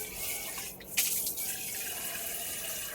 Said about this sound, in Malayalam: ഇനി വെള്ളം താളിക്ക് ആവശ്യമായിട്ടുള്ള വെള്ളം നൽകും